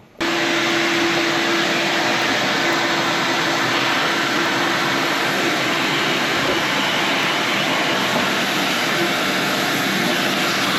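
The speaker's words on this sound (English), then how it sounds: "Maybe take the vacuum cleaner and suck all that stuff off?" A vacuum cleaner sucks dirt and debris off a 351 motor during a teardown, droning loud and close at a steady pitch for the whole stretch after a quick start.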